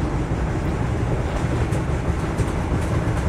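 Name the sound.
Vande Bharat Express train running, from video game Train Simulator Classic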